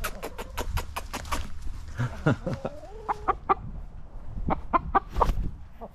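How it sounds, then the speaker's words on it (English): Several chickens cluck in short, irregular bursts close by, with a few louder squawks mixed in and no voices. "Chickens causing damage on the last day of the year"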